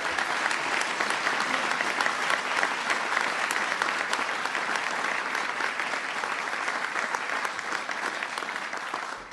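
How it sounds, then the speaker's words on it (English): An audience claps warmly for a World War II veteran of the 442nd Regimental Combat Team, a dense, steady round of applause that thins slightly toward the end. "Please give him a big round of applause"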